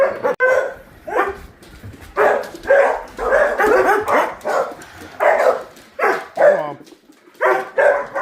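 Several dogs bark and yip in repeated loud bursts close by on a Sunday morning at home, with short gaps between volleys and no talk over them.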